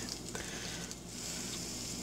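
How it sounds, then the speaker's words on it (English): Hamburger steak frying in a pan gives a steady, dense sizzle that holds at an even loudness throughout, close up and with no talking. "When it stops sizzling, it's done."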